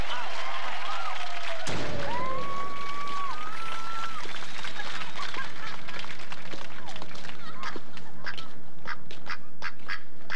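A person mimics a duck's quack with a voice in a comedy sketch, giving a few nasal calls that rise and fall over a noisy room, followed by a run of sharp clicks and thumps.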